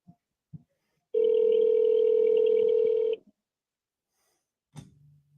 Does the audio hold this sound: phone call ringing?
yes